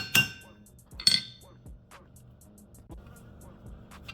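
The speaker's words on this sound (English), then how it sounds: "If it's a bit loose then you can give it a couple of whacks in the center." A hammer strikes a rivet on an anvil to mushroom its head while riveting leather straps, with two bright ringing metallic clinks, then fainter taps and lingering resonance.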